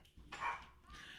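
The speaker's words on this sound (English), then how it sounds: "Apologies for the dogs barking." Dogs barking in the background, a couple of muffled, faint barks heard from a distance.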